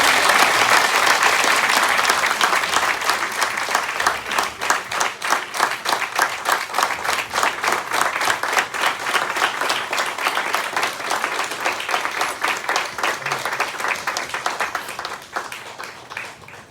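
Sustained, loud applause from an audience in a hall at a talk on the 26/11 Mumbai attacks investigation, dense steady clapping throughout that fades toward the end.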